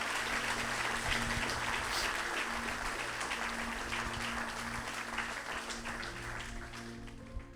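Church congregation applauding and cheering, a sustained, dense burst of many hands clapping with a low hum underneath, loud and even before easing slightly toward the end.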